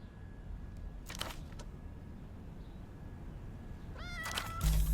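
A cat meows in the video game Zero Parades For Dead Spies, with a couple of short mews early on and a louder, rising meow near the end over a quiet game ambience.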